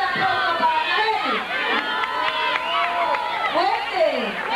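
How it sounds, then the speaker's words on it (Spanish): A festival crowd in Huisquilco, Jalisco cheers and shouts loudly and steadily for a pageant candidate, with many voices yelling at once throughout. "¡Que se escuche la aplauso para Nayeli!"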